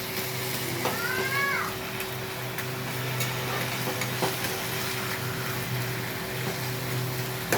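A spatula stirs taro leaves and chillies in a frying pan, with a steady close sizzle and occasional scraping clicks throughout. A short cat meow rises briefly near the start; no one speaks.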